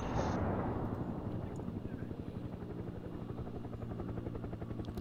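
A helicopter flies in the war video game Broken Arrow, its rotor thumping in a fast, steady, close rhythm after a brief louder burst at the start.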